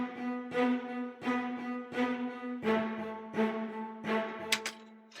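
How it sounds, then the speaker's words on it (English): A short string section plays repeated bowed chords in a steady, pulsing rhythm, each stroke swelling and fading, moderately quiet and without any talking. "I just kind of build it out at a kind of short string section"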